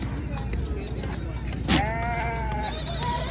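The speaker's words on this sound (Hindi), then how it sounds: "ये माशाल्लाह ये खसी बकरा जी" Castrated goat bleating at a crowded Eid livestock market, one loud wavering bleat near the middle over a constant din of crowd chatter and engine noise.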